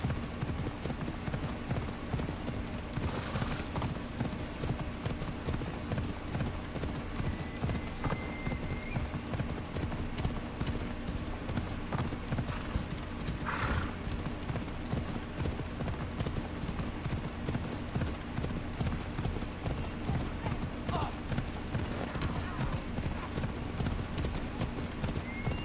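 A horse's hooves clip-clop steadily in Assassin's Creed Odyssey, a continuous rhythmic trot under a constant game ambience with an occasional faint whinny, moderately loud throughout.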